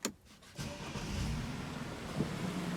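Car engine starting after a brief pause, a quick crank that turns into a steady, close idle rumble.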